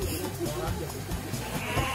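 Goats kept on a farm in Lembang, Bandung, bleating in short calls at close range, mixed with steady background noise and people talking.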